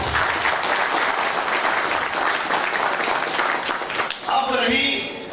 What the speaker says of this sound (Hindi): तो आप सभी के लिए एक जोरदार ताली हो जाए